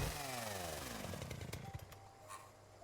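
A plasma chainsaw axe in The Outer Worlds revs up with a buzzing, rising motor snarl and sweeping harmonic whine, loud and close, then settles into a steadier hum with a high sustained tone for about three seconds.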